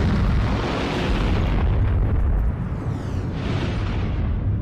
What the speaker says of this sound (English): This is what an uncontained 500 kilogram explosion can do.